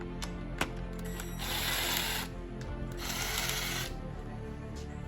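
An impact wrench removing cylinder head bolts from a Miata engine: two bursts of rapid mechanical rattling, each about a second long, over faint clicks and clinks of tools in a workshop.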